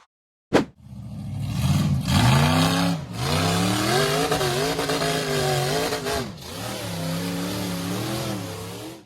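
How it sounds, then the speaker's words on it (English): An off-road buggy engine revs hard and accelerates up a rough dirt slope, loud and close, with rising and falling pitch sweeps through the whole stretch and no talk. "The buggy accelerated hard up the rough dirt slope."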